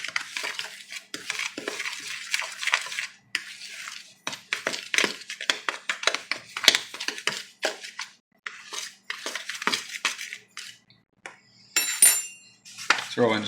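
Whole bluegill being stirred and tossed in flour, giving repeated scraping, clinking and rustling strokes in an irregular rhythm, close and fairly clear, with no talking.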